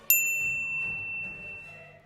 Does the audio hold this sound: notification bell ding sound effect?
yes